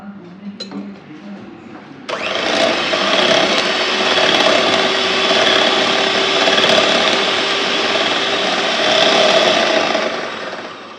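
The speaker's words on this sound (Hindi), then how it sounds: "अब हम इसे बीटर की मदद से बीट करेंगे।" Electric hand beater whirring steadily in a bowl of cookie batter, a loud continuous motor drone starting after a couple of seconds of quiet handling and running unbroken to the end.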